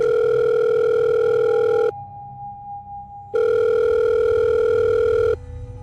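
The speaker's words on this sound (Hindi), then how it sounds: "तभी उसकी अम्मी का फोन आया" A telephone tone sounds in two long, loud, steady electronic bursts separated by a pause of near silence, with a quieter lingering tone at the end.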